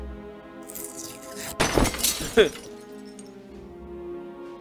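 A bird slams into a stained glass window in the Deponia Doomsday point-and-click game, giving a bright burst of shattering glass with a second sharp crack just after, set against a steady game music bed.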